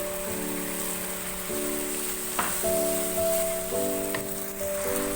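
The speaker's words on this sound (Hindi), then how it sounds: "1 मिनट मैंने लहसुन अदरक के साथ चिकन को भुना है। अब मैं इसमें टमाटर शामिल करूंगी।" Chicken browning in a pan with garlic and ginger as tomatoes go in: a continuous close sizzle and crackle under steady background music, with a couple of brief utensil knocks and no speech.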